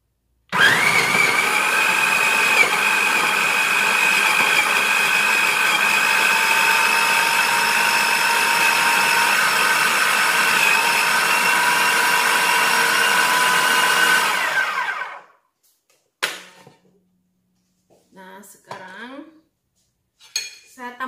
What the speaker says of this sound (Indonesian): sekarang saya mulai blender ya